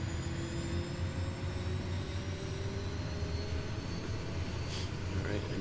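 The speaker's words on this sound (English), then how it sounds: "Alright, engine's coming up." A Daher Kodiak 100's turboprop engine in Microsoft Flight Simulator spools up with a steady low rumble and rising whine, holding even and moderately loud throughout.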